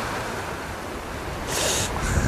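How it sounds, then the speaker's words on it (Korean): Sea waves surge up against a rocky shore in a steady rushing wash during cold-water rock fishing for opaleye. The surge swells louder and hissier near the end, with wind in the background and no voices. "파도가 쳐오르고, 밑바닥 올라가지 않고"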